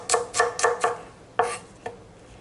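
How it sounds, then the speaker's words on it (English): A knife chops onions finely on a cutting board for shrimp curry, six or so crisp close knocks, four in quick rhythm, then a pause before two more, with no talking. "get a nice fine chop on this"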